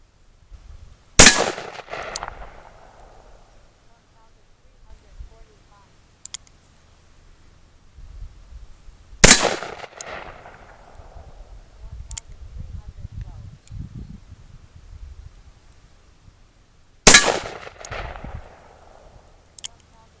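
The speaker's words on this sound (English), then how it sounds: "I'm gonna go do some shooting." Three loud, sharp gunshots from a Smith and Wesson Model 29 revolver fired outdoors, each about eight seconds apart and trailing off in a short echo, with faint voices and rustling between shots.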